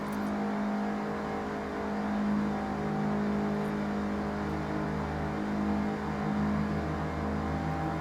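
Racing car engine in Forza Horizon on a long touge lap, a steady loud drone with shifting engine pitch as it drops a gear, sustained and close with no pauses.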